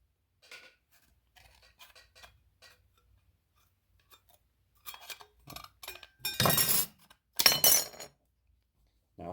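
Offset tin snips cut sheet metal: a few faint ticks and clicks in near silence, then two loud, crunchy bursts of metal being sheared close by toward the end.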